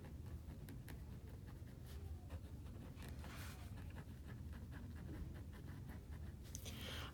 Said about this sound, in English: Would you mind if I write some notes down about this?